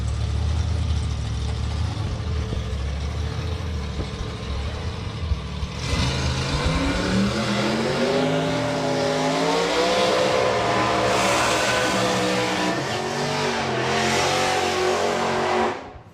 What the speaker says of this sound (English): Very nice, strong sounding burnout from Paul again.